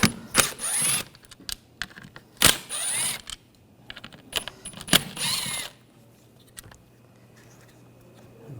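Screws come out of a 2007-2013 BMW X5 rear window regulator motor under a T30 socket: a series of sharp ratchet clicks and metallic rattles in short irregular bursts, then quieter handling noises, with no talking.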